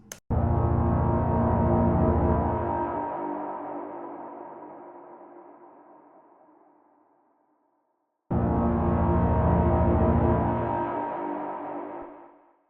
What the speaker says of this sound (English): so the two pads and the horn will sound like this